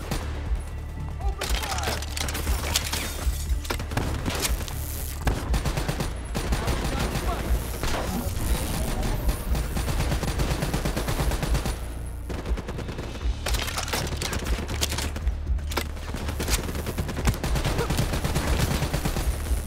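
Automatic and rapid gunfire in the video game Call of Duty: Black Ops 3, loud and nearly continuous bursts over a dense battle soundtrack with booming impacts, briefly broken by short pauses, with occasional game voices mixed in.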